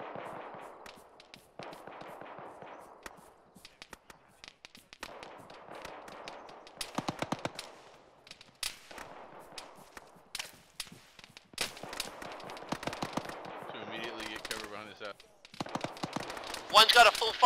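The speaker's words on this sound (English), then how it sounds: "Sierra, that Dishka's opening up on you." DShK heavy machine gun opening up in a military shooter game, sharp bursts and single cracks scattered through, some distant and some closer, under frequent radio chatter between players.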